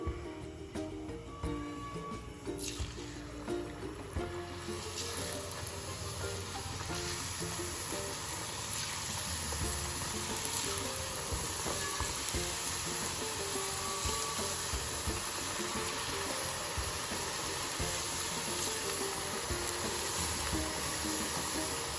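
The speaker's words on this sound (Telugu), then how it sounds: "ఇప్పుడు ఈ చిన్న సైజ్ అప్పలు డీప్ ఫ్రై చేసుకుందాం" Small chekodi dough rings deep fry in hot oil with a soft, continuous sizzle and bubbling that stays low and steady throughout.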